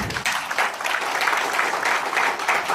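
An audience at a business presentation claps together, a dense and even wash of applause that holds steady from start to end, fairly loud and with no voices over it.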